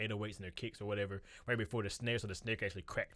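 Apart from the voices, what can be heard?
No everyday noises stand out.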